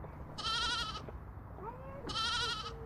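Sheep bleating twice, each a wavering, nasal cry lasting about half a second, fairly faint over a low background hum with a soft gap between the calls.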